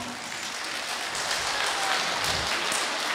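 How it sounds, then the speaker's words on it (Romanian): Dense, sustained applause from an audience at a village patron saint festival in Satul Nou, thanking the performing artists Alina and Oleg Cociuc; the clapping stays loud and even throughout, with no talk over it. "Aplauze!"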